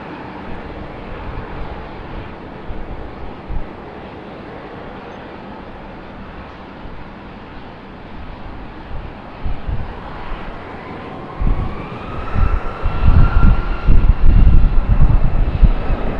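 An Air Canada airliner at Raleigh-Durham International, its engine rumble building from a low, steady hum to a louder, closer roar with a rising whine near the end.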